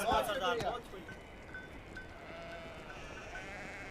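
A few sheep bleat near the start, close and distinct, then fade into a quiet outdoor background with faint voices around a tribal gathering.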